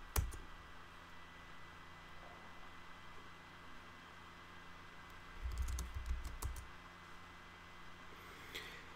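A command being typed in a Mac terminal: faint, scattered keyboard clicks with a brief cluster of taps midway, set against a low, steady background hum.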